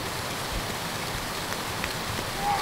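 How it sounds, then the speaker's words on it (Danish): Steady rain falls throughout, a dense close hiss of drops hitting surfaces with no voices, at a wet outdoor festival in Denmark. "at det regner for meget"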